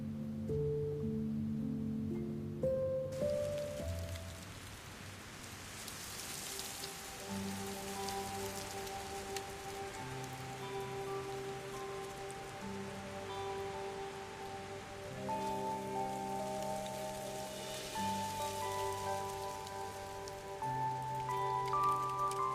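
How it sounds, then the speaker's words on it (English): Steady rain falling in the anime-style game Love and Deepspace, a continuous soft patter that runs under sustained musical tones and swells slightly midway and toward the end. "Keep out of the rain."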